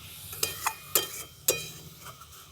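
A spoon stirs masala frying in a pan, scraping a few times at a steady pace over a soft, continuous sizzle, close up and with no one speaking.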